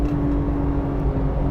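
A 700 HP Porsche 911 GT2 RS engine accelerates on the Nordschleife, a steady loud droning roar heard from inside the car with no talk.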